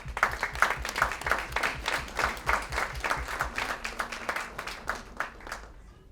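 Guests at a black-tie SickKids charity dinner give a round of applause. Distinct, fairly close hand claps ring out in a brisk, uneven patter, then thin out and fade toward the end.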